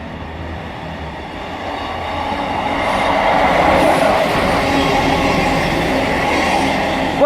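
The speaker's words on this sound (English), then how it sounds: "And now approaching is going to be another East Midlands 158 bound for Liverpool Lime Street." An East Midlands class 158 passenger train, a single set, passing at speed along the line at Deansgate, a rising rumble and rushing roar of wheels on rails that builds and stays loud close by.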